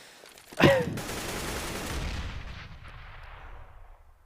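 A Counter-Strike: Global Offensive match: a single loud gunshot cracks sharply, followed by a long booming echo that rolls and fades over several seconds.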